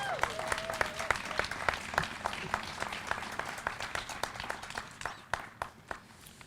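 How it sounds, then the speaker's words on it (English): An outdoor crowd at a Juneteenth flag raising claps steadily, individual sharp hand claps standing out near and far, tapering toward scattered claps at the end. "Please give us a hand clap."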